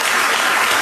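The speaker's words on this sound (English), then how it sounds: "Applause." A brief burst of dense applause from a crowd, loud and steady with many hands clapping at once.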